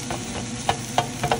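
Garlic frying in a pan alongside onions already browned, cooked for lechon paksiw: a steady sizzle runs throughout, broken by a few sharp utensil scrapes and taps of stirring, close and alone with no talk.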